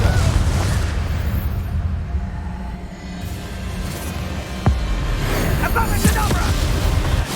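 A Confringo fire spell goes off in Hogwarts Legacy amid dense, booming game noise, with a sharp blast cutting through and another burst of fiery impact shortly after against a constant rumbling backdrop.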